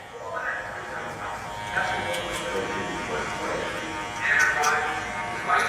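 Electric hair clippers buzz steadily during a low taper fade as the lever is worked, a close humming drone under someone talking.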